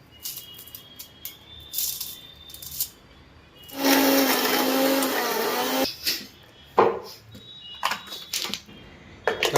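A kitchen mixer grinder grinds green chilies, garlic and coriander with stems into paste in one steady whirring burst of about two seconds, with quieter clicks and knocks before and after.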